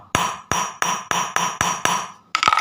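Seven sharp, evenly spaced hammer blows strike a hole punch into canvas shoe fabric for laces, each a loud close crack with a short decay, steady rhythm, no talk.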